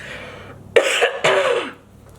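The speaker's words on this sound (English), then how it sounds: "oh girl, I got a cough" Two harsh coughs in quick succession, close and fairly loud, after a moment of quiet.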